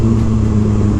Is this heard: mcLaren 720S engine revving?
yes